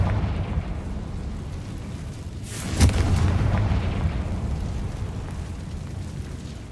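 A Confringo blasting spell explodes in the Hogwarts Legacy video game: a single sharp, loud burst near the middle over a constant low rumble, fading into a long broadband wash.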